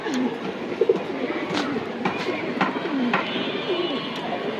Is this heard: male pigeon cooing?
yes